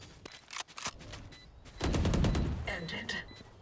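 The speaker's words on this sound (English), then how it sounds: "Swarm grenade out." A Killjoy swarm grenade goes off in a Valorant match on the Lotus map, heard as a burst of rapid sharp pops and crackles, with a loud rattling stretch in the second half mixed with other game effects and faint voice chat.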